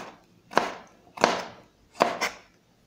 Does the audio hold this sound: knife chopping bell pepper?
yes